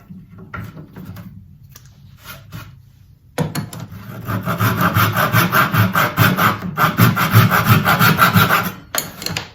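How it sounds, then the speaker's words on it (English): Sanding a glued-in dowel flush on a wooden planter, starting with light, quiet rubbing and then turning into loud, close, rhythmic back-and-forth scraping strokes that run for several seconds. "We'll do a little bit of sanding on that."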